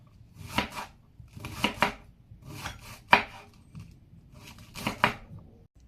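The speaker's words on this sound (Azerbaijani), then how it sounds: "İlk öncə qırmızı kələmi xırda-xırda doğrayırıq." A knife chops red cabbage finely on a board, five quick bursts of rapid blade strikes spaced about a second apart, close and crisp.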